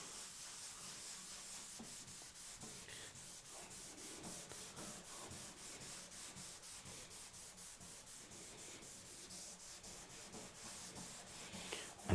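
Old tea towel rubbing new wood oil into a desk during a home renovation, a steady soft swishing friction that continues close and evenly throughout with no talk.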